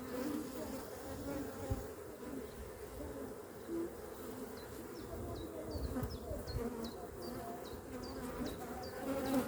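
Honeybees buzz densely around an open hive during a brood-frame inspection, a steady close swarm hum that fills the whole clip, with brief higher wing whines flicking past.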